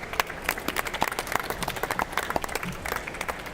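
A small group claps for Tyler, a builder at a LEGO building competition finale, producing distinct uneven hand claps at close range with a brisk, scattered rhythm.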